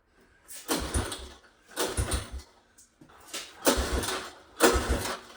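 A 1982 Honda 200E motorcycle engine with its idle screw backed all the way out struggles to idle, surging in four uneven revving bursts with brief dips between them, close up and without talk.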